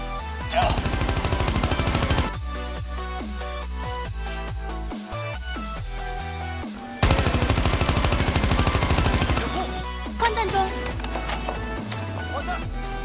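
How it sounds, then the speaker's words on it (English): Rapid bursts of AK117 rifle fire in Call of Duty Mobile, each shot carrying a musical, melodic tone, with reload sounds between volleys over a steady game soundtrack. "You can hear the musical sound when you shoot with the weapon and when you reload."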